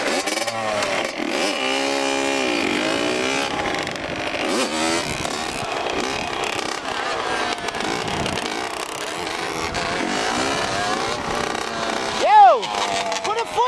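A Yamaha Banshee ATV's two-stroke engine revs hard and close, loud buzzing pitch sweeping up and down repeatedly with a sharp rev burst near the end, while a voice speaks over it.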